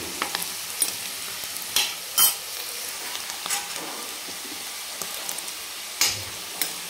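Potatoes shallow-frying in oil in a pan for Kashmiri dum aloo, a steady close sizzle with occasional sharper crackles and stirring clinks, no talking.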